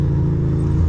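A small Mercedes-Benz car's engine drones steadily up close in a continuous low rumble as the car accelerates to overtake another on the road, with no talk over it.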